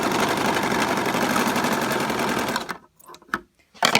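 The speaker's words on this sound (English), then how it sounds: "match up both the ends, and then you're going to serge that." A serger stitches the ends of black scrunchie fabric together with a fast, loud mechanical whirring, then stops abruptly and gives a few short bursts before pausing.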